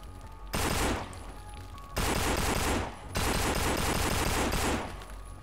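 Sustained automatic gunfire from the zombie video game No More Room In Hell comes in three long, loud bursts separated by short pauses, with rapid crackling shots dense throughout each burst.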